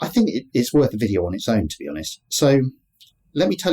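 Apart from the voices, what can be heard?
No everyday noise stands out behind the speech.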